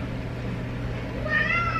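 A domestic cat meows once, a short high call near the end after a quiet stretch of room hum, close and fairly clear, with no talk.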